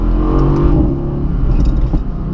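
Mercedes AMG GT Roadster, a 2018 model, with its engine droning loud and close as it accelerates, a deep steady roar that rises slightly, with no talk.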